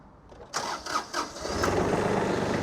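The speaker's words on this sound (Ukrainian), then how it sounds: "Заводимо тракторець, дамо понижену передачу." A Kubota Aste A-195 tractor engine cranks with a few strained turns after glow plugs warm, then catches and settles into a steady, rumbling idle close by.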